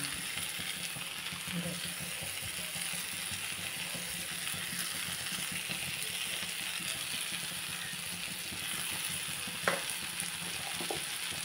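Long beans stir-fried with chilli powder and pepper powder sizzle steadily in a pan, a constant close hiss broken by a couple of faint scraping clinks near the end.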